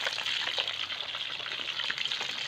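Fish frying in hot oil for a Thai eggplant soup with fried tilapia, a dense, steady hiss and crackle of bubbling oil, close and constant with no talking.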